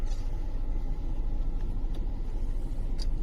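A car pulling out of a garage, its engine running as a steady low rumble that stays close and even throughout, with no voices over it.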